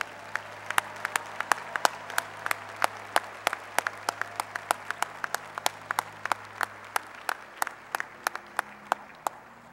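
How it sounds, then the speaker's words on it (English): Applause at a college commencement for master's degree recipients, a thin spread of individual claps in an uneven rhythm, sharp and fairly close over a quiet hall with a low hum. "please join me in congratulating our master's recipients"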